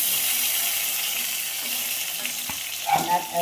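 Stuffed pointed gourds (potol dolma) fry lightly in a pan with a steady, soft sizzle; a few clinks and stirring noises come near the end, and no one speaks.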